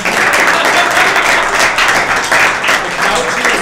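People at a student government meeting give a round of applause, a brief spell of steady clapping filling the room.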